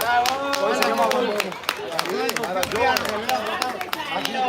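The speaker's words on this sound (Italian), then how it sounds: "Un applauso a Don Giuseppe di Soletino." Applause for a priest at a boxing sparring event's medal ceremony, sharp hand claps running steadily throughout with a voice speaking over them.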